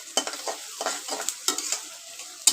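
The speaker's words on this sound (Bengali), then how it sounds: "পেঁয়াজটা আমার লাল হয়ে এসেছে ভাজা" Onions frying in a pan for moringa leaf and red lentil dal, with a soft sizzle under short scraping strokes of a spatula stirring them, close and fairly quiet, several brief clatters along the way.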